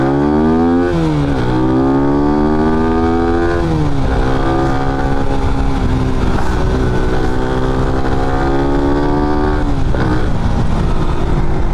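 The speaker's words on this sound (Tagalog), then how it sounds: "At parang mas malawak yung hininga ng motor kapag ka naka-open airbox" A Raider 150 FI motorcycle engine with an open airbox runs loud and close, revving up and down several times with a deep throaty roar that rises and falls in pitch.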